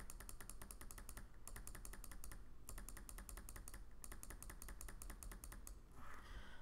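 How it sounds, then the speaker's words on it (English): Rapid keyboard typing mixed with mouse clicks while working in Cricut Design Space, in steady bursts with short pauses and no talking. "double clicking the text, hitting enter."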